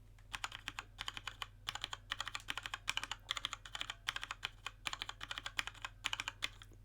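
Typing on a Cherry MX Board 1.0 backlit mechanical keyboard with muted switches: quick, soft, close-up keystrokes in irregular bursts over a low steady hum, without any talking.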